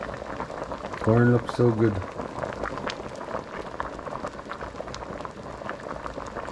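Water boils in a pot of corn being cooked for eight, with a steady bubbling hiss running throughout and a voice briefly speaking over it near the start.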